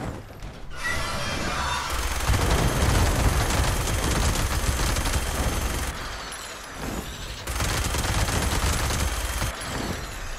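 A Vampire minigun in Fallout 76 fires loud, sustained rapid bursts that roar for several seconds, drop briefly, then resume, in dense continuous gunfire with mechanical whir.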